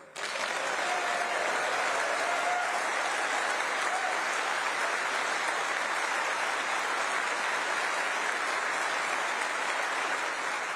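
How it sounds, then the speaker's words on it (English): An audience applauds at a Conservative Party leadership candidate's speech: dense, sustained clapping that stays even and unbroken throughout, heard from a moderate distance. "to huge applause in the audience"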